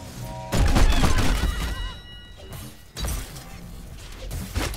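Junkrat's bombs go off in Heroes of the Storm as two loud crashing bursts of blasts and debris, the second about two seconds after the first, over game sounds.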